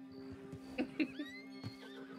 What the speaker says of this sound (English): my horse is wrecking the fucking fence